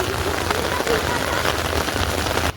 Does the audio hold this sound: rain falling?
yes